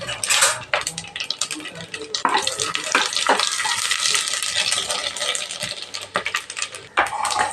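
Whole spices such as cinnamon, cloves and fennel seeds frying in oil in a pan for vegetable biryani, a steady crackling sizzle with clattering utensil knocks and scraping throughout, close and fairly loud.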